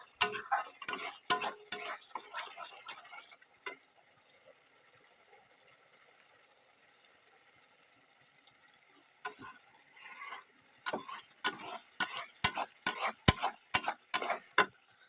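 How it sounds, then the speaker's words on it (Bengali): Spice paste (masala) is stirred and fried in oil in a pan, with clicking, scraping spatula strokes and a soft sizzle, close by. The strokes come in bursts with a quieter pause in the middle. "যতক্ষণ না মশলা থেকে পারফেক্ট তেলটা ছেড়ে দেবে ততক্ষণ কিন্তু মশলাটাকে ভালো করে কষাতে হবে"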